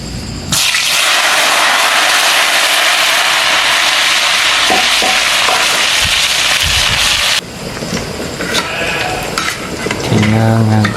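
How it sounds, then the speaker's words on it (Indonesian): Jengkol fries in a hot pan with a loud, steady close-up sizzle that cuts off abruptly partway, leaving softer crackling and clatter, with no one speaking. "tinggal ngagoreng jengkol."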